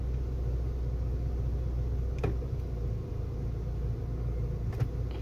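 A 2022 Ford Territory in reverse gives off a continuous low rumble and cabin vibration, a steady droning hum close to the listener with a couple of faint ticks over it.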